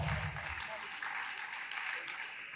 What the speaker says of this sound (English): That applause is not enough.